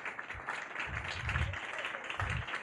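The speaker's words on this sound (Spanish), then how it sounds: "quiero pedirles un fuerte aplauso" Applause from an audience at a medical conference on breast imaging, a steady wash of clapping lasting the whole moment, moderately loud and diffuse with no voices over it.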